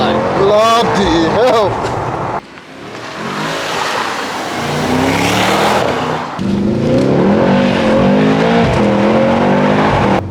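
A Mercedes GT63s AMG in race mode accelerating hard, its engine rising and falling through repeated revving sweeps, loud and close from inside the car, with an excited shout over it.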